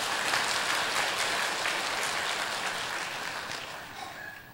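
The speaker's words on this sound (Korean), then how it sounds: "박수 좀 쳐봐" Congregation applauding during a Sunday church sermon, a dense sustained wash of many hands clapping that stays loud throughout and tapers slightly toward the end.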